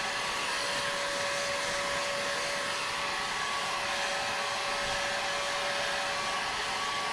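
Heat gun blowing steadily on an epoxy-coated tumbler, a constant close whooshing hiss with a high whine that holds for several seconds, no voices.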